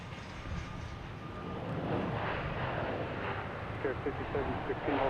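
A jet airplane at Boston's Logan Airport builds into a broad, rising engine roar that grows steadily louder over the clip, with a person talking over it.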